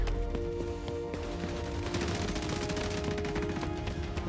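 Rapid automatic gunfire rattles on continuously in a shooter video game, a dense stream of shots over a steady tonal game backdrop.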